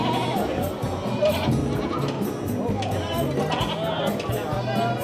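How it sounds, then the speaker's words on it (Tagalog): Goats bleat repeatedly amid a busy, noisy pen, their calls overlapping with people talking nearby. "Ang daming kambing."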